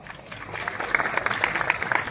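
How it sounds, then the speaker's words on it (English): Audience applause at a Rojgar Mela job fair appointment ceremony in Guwahati, a steady dense round of clapping from a crowd filling the short span, with a slight rise in intensity midway. "a huge round of applause"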